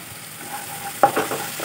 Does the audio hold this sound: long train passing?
no